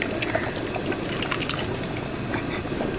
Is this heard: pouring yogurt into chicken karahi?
yes